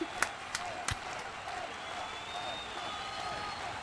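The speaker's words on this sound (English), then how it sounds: "Crowd's going nuts. Oh, listen to the crowd." A crowd at a girls' varsity high school lacrosse game cheers and claps, a broad steady roar with a few sharp claps and whistles standing out, at moderate distance.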